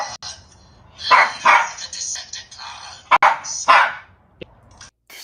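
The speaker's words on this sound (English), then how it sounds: "Wouldn't that be cool if it responded to the dog's bark?" A dog gives several sharp barks in two clusters, loud and fairly close, amid some background clatter and people speaking nearby.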